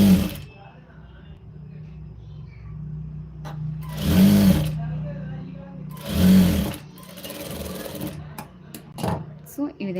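Blouse fabric stitched on a sewing machine in two loud, short bursts of rapid whirring, separated by quieter handling noise and a low background hum, with a voice speaking in between.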